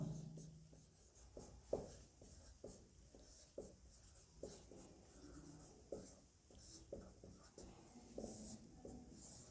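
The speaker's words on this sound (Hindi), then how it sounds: "अब लिखते हैं अपन आगे इसकी प्रयोग विधि" Pen or pencil writing steadily on paper while an experiment procedure is written out for an ammeter calibration lesson, a close, quiet scratching with short strokes and pauses, faint room noise behind.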